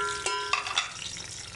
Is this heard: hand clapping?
no